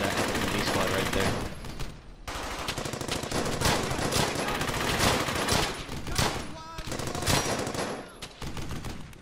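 Sustained machine gun fire in the World War II shooter Brothers in Arms: Hell's Highway: loud, dense bursts of automatic gunfire with sharp overlapping reports and brief pauses, close and continuous throughout.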